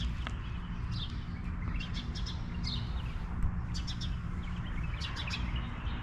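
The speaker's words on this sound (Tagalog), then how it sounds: "daming ibon" Many birds chirp and tweet in quick high bursts throughout, layered over a steady low rumble of background noise.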